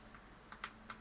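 A few quick keystrokes on a computer keyboard, faint and close, tapping in a short uneven burst with no talking.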